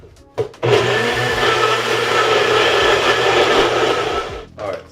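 A blender mixes a protein shake in one loud, steady whir that runs for several seconds after a brief start-up burst, then cuts off abruptly.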